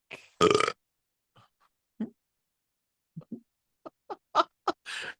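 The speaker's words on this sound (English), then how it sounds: "that was not only a lengthy burp" A drawn-out human burp during a judged competition show, broken into a string of short, croaking bursts separated by silences, with one loud gulp near the start and a rougher burst at the end, with no talking.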